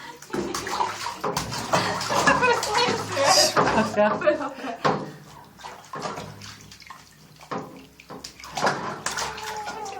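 Tap water gushing into a bathtub with splashing and clattering, while people talk and laugh close by over the running water.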